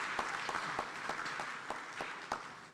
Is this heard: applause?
yes